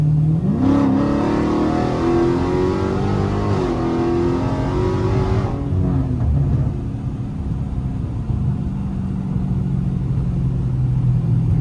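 A Dodge Challenger Scat Pack's engine pulls hard in traffic, its loud close rumble climbing in pitch through two rising surges before easing off into a lower steady drone.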